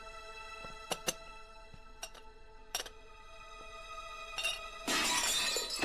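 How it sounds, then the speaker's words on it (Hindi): A cup breaking by accident indoors, heard as a sharp, bright shatter of ceramic or glass pieces that fills the last second after several light clinks and ticks spaced out before it. "ये अंदर से शोर कैसा आ रहा है? कुछ नहीं, वो बस कप टूट गया गलती से।"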